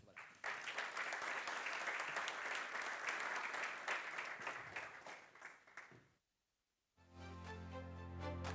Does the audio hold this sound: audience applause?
yes